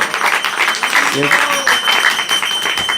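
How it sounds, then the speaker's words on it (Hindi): An audience at a house program claps loudly and continuously in a dense, rhythmic patter, with a voice speaking over the applause. "ताली बजाओ जोर से"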